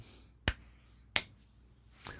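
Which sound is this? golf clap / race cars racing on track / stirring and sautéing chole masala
golf clap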